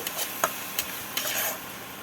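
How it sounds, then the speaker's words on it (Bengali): Ground spices sautéed and stirred in a pan for a mussel curry, a quiet even hiss of frying with a few sharp spoon taps against the pan. "এবার আমি সব মশলাগুলোকে ভালো করে আমি কষিয়ে নেব"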